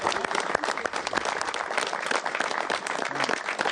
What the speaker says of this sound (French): donc là on va l'applaudir quand même